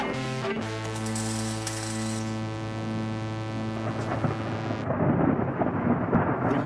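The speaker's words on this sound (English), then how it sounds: "Is that thunder?" Low thunder rumbles alongside a sustained tonal hum, then gives way to a rougher, crackling rumble near the end.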